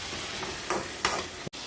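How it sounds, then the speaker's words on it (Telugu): Fish pieces go into a hot pan for bommidai pulusu, a steady sizzle with a few sharper hisses and light stirring knocks, close and moderately loud, with no talking. "ఈ విధంగా బాగా మగ్గిపోయాయి కాబట్టి ఇప్పుడు చేపలు వేసుకుంటున్నాం."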